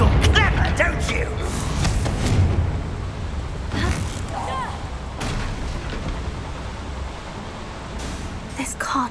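Confringo blasting spell explosions in the Hogwarts Legacy video game burst out as several loud booms and crackling blasts over a rumbling background, with speech mixed in.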